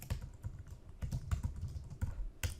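Close, quick taps on a computer keyboard, a short burst of light clicks in an uneven rhythm in a quiet room.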